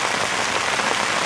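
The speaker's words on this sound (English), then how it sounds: "it just started raining" Rain patters steadily on an umbrella in a pumpkin patch, a dense, even hiss of drops close overhead with no break.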